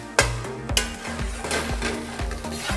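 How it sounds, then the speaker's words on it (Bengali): Chopped onion frying in a pan with oil while a spoon or ladle stirs it, sharp scraping and clanking strokes repeating over a continuous sizzle, close and fairly loud, with no speech. "ভাতের হাতার 1 হাতা পেঁয়াজ কুচি দিয়ে খুব ভালো করে নেড়ে ভাজতে হবে"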